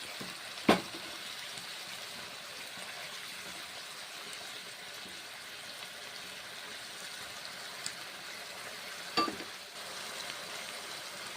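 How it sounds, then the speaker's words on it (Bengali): Mixed vegetables frying in a pan give a steady, soft sizzle throughout, with two brief sharp scrapes of stirring near the start and again toward the end. "নেড়ে চেড়ে নিচ্ছি।"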